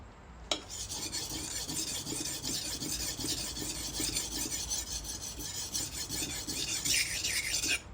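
A knife blade rasps steadily against a coarse 120-grit whetstone, a continuous gritty scraping that swells and eases with each stroke, close and fairly quiet with no voices.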